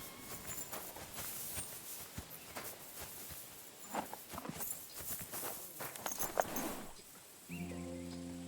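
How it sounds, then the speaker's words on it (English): A grey horse in Kingdom Come: Deliverance 2 walks with an unhurried, even clip-clop of hooves, close and clear, before a soft musical tone comes in near the end. "That grey horse"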